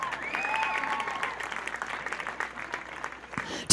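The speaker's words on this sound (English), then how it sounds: "Give her a round of applause." Audience at a charity fundraising night applauds, a moderate spread of clapping that carries on evenly, with a faint tonal sound early and an abrupt loud noise at the very end.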